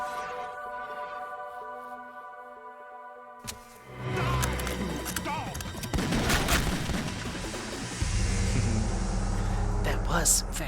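Gunfire and booms from the video game Metal Gear Solid 2 ring out over tonal game music and layered effects, building in density toward the end, with voices speaking over it.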